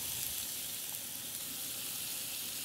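Onions sizzle in melted butter in a pan, the start of a lobster sauce: a steady, close, bright hiss that continues unbroken throughout.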